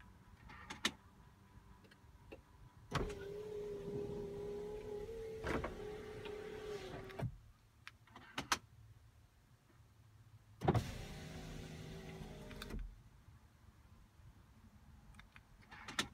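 BMW E39 power windows going up: two separate runs of the electric window motor, each a steady whirring hum lasting a couple of seconds and ending in a soft clunk, with quiet pauses and a few small clicks between.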